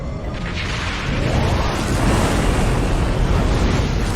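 Starship weapons fire and explosions in a Star Trek Online space battle, a dense, loud roaring rumble with broad whooshing blasts that swell after the first second and keep churning steadily to the end.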